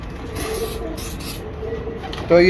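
Several short hissing bursts from a spray bottle spraying a pigeon, three quick sprays in a row, followed by a brief mechanical whir.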